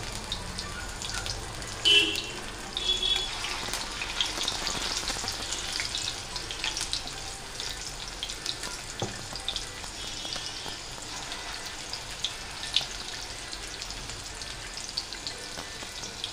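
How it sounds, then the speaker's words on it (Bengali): Mourala fish fritters fry in hot oil, giving a steady, soft sizzling hiss throughout with a few brief clinks, and no talk over it. "এই যে এরকম করে আমি বড়াগুলো ভেজে নেব।"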